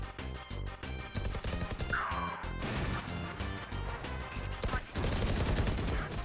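Rapid gunshots from a Valorant match, including a headshot through a box, crack out in loud bursts over dense game sound, with sharp impacts spread across the whole stretch.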